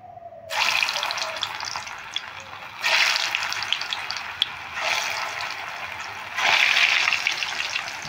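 Crispy potato balls dropped one at a time into hot oil over a medium flame, producing a steady broadband sizzle that swells in several bursts as each ball goes in, with no talking.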